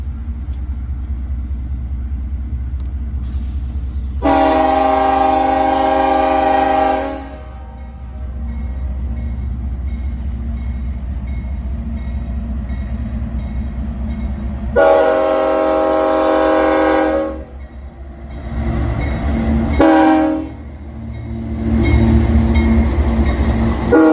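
A freight train rumbles steadily nearby while its horn sounds in several long blasts, one early, one later, followed by shorter toots.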